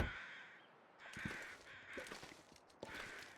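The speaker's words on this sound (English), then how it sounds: "Crows doing a flyover." Crows cawing during a flyover in the survival game The Long Dark, several rough caws repeating at irregular intervals, moderately distant and fairly quiet.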